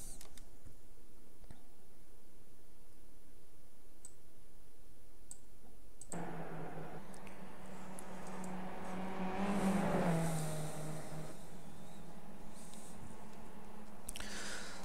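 A Skip Barber race car on a lap of Lime Rock in a racing simulation, its engine note droning steadily with rising and falling pitch through gear changes, preceded by several seconds of near silence with faint clicks.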